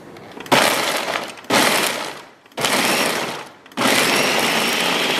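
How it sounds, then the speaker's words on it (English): A food processor grinding cashews in a kitchen, running in four loud bursts of roughly a second each with brief pauses between them, a harsh rattling whir that carries on to the end. "Then we're adding one cup of cashews and then processing that again for 30 seconds."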